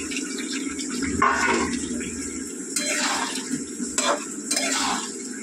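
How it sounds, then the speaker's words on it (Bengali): Fried potatoes being stirred through thick yoghurt-spiced masala in a pan for a vegetarian alur dom, with steady scraping and a low sizzle, near and moderately loud, with no talk. "মশলাটা কষতে কষতে ততক্ষণ আলুগুলো, ভাজা আলুগুলো কষে ফেলি"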